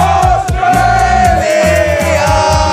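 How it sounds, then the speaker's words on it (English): A large crowd of South African football fans at the World Cup, loud and close, with chanting, horn-like blaring tones and overlapping voices forming a dense, continuous roar. "I'm here in a crowd with thousands of South African fans, all dressed in German and Spanish colours"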